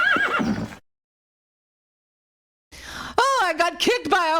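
A horse neighs in two loud, wavering whinnies split by a stretch of silence, the second longer and more broken.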